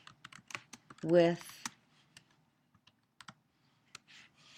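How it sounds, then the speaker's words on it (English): Computer keyboard typing in short bursts of light, sharp clicks and taps, spaced irregularly across a quiet room, with a brief spoken word near the start. "I'm going to type this."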